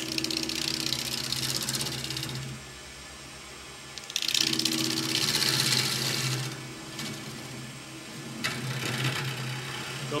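A wood lathe spinning at around 800 RPM while a bowl is being turned, a steady motor whir and rumble with bursts of harsher hissing gouge cuts that come and go, close and without talk.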